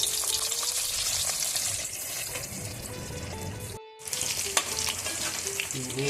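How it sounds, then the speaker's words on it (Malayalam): Beef pieces fry in hot oil in a pan, giving a steady, dense sizzle with a little stirring, close and fairly loud, broken by a short silent gap near the middle before the crackle resumes. "വറുത്തെടുക്കാം"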